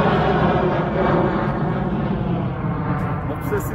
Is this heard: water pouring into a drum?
no